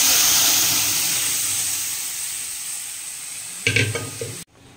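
Green chilli and asafoetida sizzle in hot oil as a tempering for chana dal, a close, steady frying hiss that slowly eases, with a brief clatter of utensils just before it cuts off.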